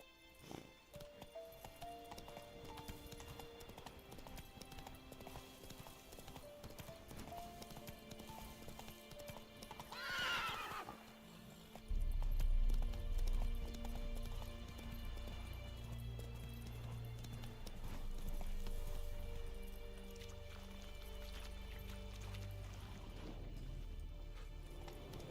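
Hooves of a horse galloping in The Witcher 3 video game, a steady clip-clop that swells louder midway over game music, with a brief whinny before the pounding run continues.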